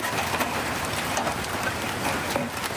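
Heavy thunderstorm rain falling in Victoria, a dense, steady roar of drops on surfaces, loud and continuous with no voices.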